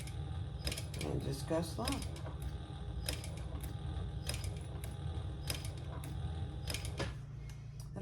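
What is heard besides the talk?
hand stitching leather with a needle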